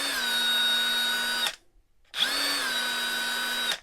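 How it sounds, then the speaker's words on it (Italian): A Parkside Performance PDSSA impact driver run at minimum speed: two close bursts of steady high motor whine, each starting with a quick spike then settling, separated by a short silence. "sentite questo picco iniziale e poi questa discesa"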